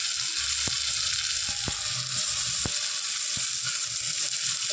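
Chopped tomato and grated ginger fry in a pan with a constant bright sizzle while a utensil stirs, knocking the pan in several sharp taps spaced about a second apart.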